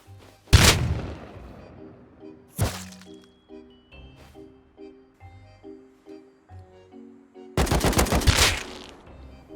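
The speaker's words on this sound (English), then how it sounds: "I'll just get on the roof and shoot him with the AK" AK rifle fire in the survival game Rust: a sharp close shot, another single shot, then a rapid automatic burst near the end, with game music notes playing quietly between the shots.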